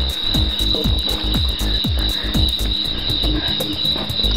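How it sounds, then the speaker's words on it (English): At night outside a quartz cottage, crickets trill steadily in a high continuous chirr while bullfrogs and frogs croak in a quick repeated series close by. "You can hear the sound of the birds and the crickets and the bullfrogs"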